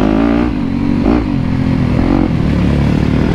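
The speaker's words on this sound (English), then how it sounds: "Jay's here as well, ripping on his Kawasaki" A Kawasaki dirt bike engine revs hard during riding on a motocross track. The roar is loud, close and continuous, with the pitch rising and falling and some clatter and scraping mixed in.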